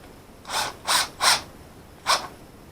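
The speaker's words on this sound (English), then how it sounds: "I'm going to tighten this one down a little bit" A screw being tightened on a USB power outlet during installation, four short close ratcheting clicks, three in quick succession and one after a pause.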